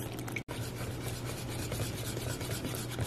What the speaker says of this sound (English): And give that a mix.